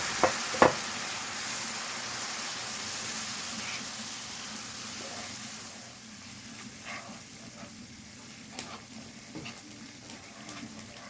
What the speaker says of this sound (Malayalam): ഇനി നമുക്ക് കുറച്ച് വിനാഗിരി ചേർത്ത് നന്നായി തിളപ്പിക്കാം.